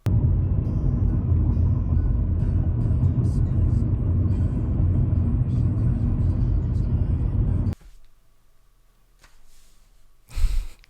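Steady, loud low rumble inside a moving car driven along the road, continuous for about eight seconds before cutting to quieter room sound with a brief bump near the end.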